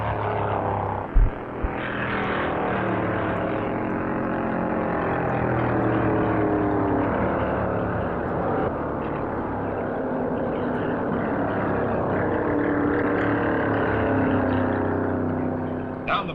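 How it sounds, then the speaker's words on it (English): 1957 Pontiac stock cars racing flat out at about 140 mph on the Daytona Beach road course during a NASCAR Grand National race, a continuous loud engine roar with a brief thump early on, no talk. "Banjo Matthews sends his Pontiac screaming north at 140 miles an hour"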